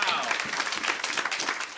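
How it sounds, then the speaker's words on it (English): Audience applause for young student performers on a talk show, a dense burst of clapping that fills the short stretch at steady loudness, with a faint voice mixed in beneath it. "can we have a round of applause for these guys?"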